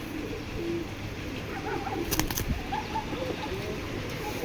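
Racing pigeons coo softly at a sale, low repeated murmuring calls with a brief flutter of wings midway, fairly quiet and close, with no talk.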